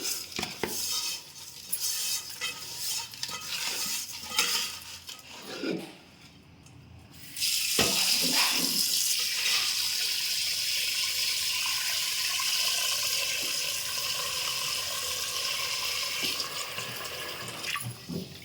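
Fish being washed by hand in salt water in a wide bowl: sloshing, splashing water with scraping and clattering against the bowl, briefly pausing before a long, steady run of swirling water.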